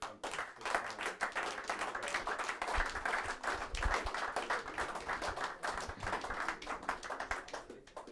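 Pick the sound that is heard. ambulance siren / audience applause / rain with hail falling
audience applause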